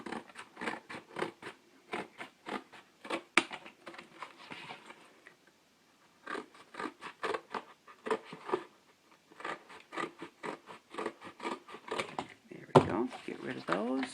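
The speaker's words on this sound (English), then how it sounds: "I'm just going to go along this edge and just cut these off" Scissors cutting off the flaps of a cardboard box for a craft storage box: quick runs of close crisp snips in bursts, pausing briefly before resuming, with a voice heard among the cutting.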